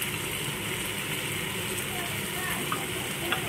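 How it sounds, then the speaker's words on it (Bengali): Spiced batter frying in a hot pan while being stirred, a continuous dense sizzle with faint scraping and stirring sounds throughout, close and moderately loud. "মশলাটা দিয়ে কষিয়ে নেড়ে চেড়ে আবারও ভেজে নেব"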